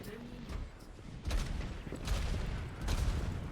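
Rapid gunfire and bursts from the Overwatch video game crackle in dense, continuous volleys with booming impacts, fairly loud and close, with a player's voice mixed in.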